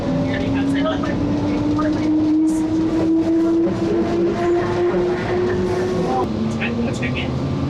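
Riding the Phoenix Sky Harbor SkyTrain airport people mover: a steady loud cabin rumble with a rising electric motor whine and occasional clicks, while people talk nearby.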